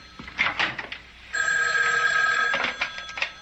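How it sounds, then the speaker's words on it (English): An old-fashioned telephone bell rings in a continuous burst lasting about a second, loud and close, with brief sounds of movement before and after. "Excuse me, that's my phone."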